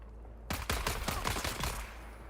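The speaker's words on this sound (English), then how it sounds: "Oh, I can destroy them with the gun." Gunfire in the Dune video game: a burst of sharp, rapid shots starting abruptly, about half a dozen loud cracks in quick rhythm, then a fading tail, with no talk.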